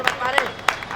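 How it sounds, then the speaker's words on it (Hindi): Audience at a Hindi poetry gathering marking Navy Day and Vijay Diwas claps in a short, loud burst of applause lasting about a second. "एक बार जोरदार तालियां हमारी मातृभूमि के लिए।"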